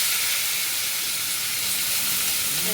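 Diced raw papaya hitting a hot pan with oil and dried red chillies, giving a loud, steady, close sizzle and hiss that fills the whole moment without a break.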